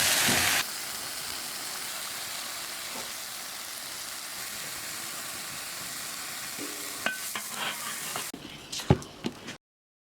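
Mushrooms and pork with chicken leg bones and green and red chili peppers stir-fried in a wok, a steady close sizzle and scrape for most of the stretch, ending in a few sharper clanks before cutting off.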